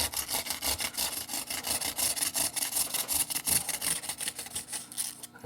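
Rhythmic back-and-forth scraping of abrasive against wood, close and steady, each stroke a short rasping burst with no talking.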